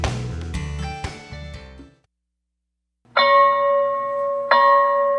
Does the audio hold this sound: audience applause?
no